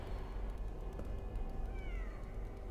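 A cat meowing in the indie horror video game We Are Saved, a drawn-out meow sounding faintly over a dense, steady game ambience with no talking.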